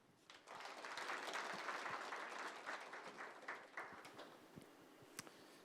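An audience at a blockchain and digital asset industry policy forum applauds to welcome a committee chairman. The clapping swells after a brief quiet start, holds steady, then thins to scattered claps by the end.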